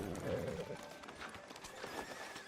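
Horse hooves clip-clopping in a Red Dead Redemption 2 town outside a sheriff's office, a steady near patter with a whinny-like tone and ambient game noise underneath.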